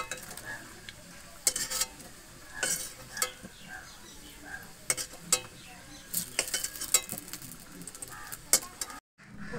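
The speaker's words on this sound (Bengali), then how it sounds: "ওই তেলের মধ্যে বেরেস্তার জন্য পেঁয়াজ ভেজে নেব।" Sliced onions fry in hot oil in a kadai for chicken biryani, with a low steady sizzle broken by sharp scrapes and clinks of a stirring spatula against the pan.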